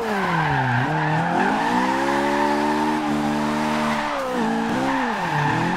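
A car drifts in Forza Horizon 2 with a 1991 BMW M3 E30 drift build, its engine droning loudly as the tires squeal in long sustained slides that dip and rise through the corners.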